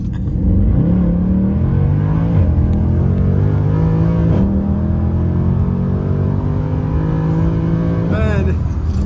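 Mercedes C63 AMG 507 Edition V8 revving in snow after a warm start: a loud, steady engine drone that climbs and dips through several revs, with a sharp blip near the end and voices talking over it.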